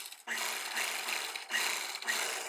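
A sewing machine stitches lehenga fabric in short close bursts, a buzzing mechanical whir that starts, pauses briefly and starts again, with no talking.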